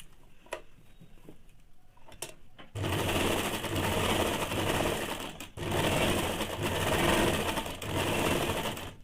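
A sewing machine runs steadily while stitching a semi salwar. Light ticks come first, then two long, continuous bursts of close, even whirring with a short pause between them.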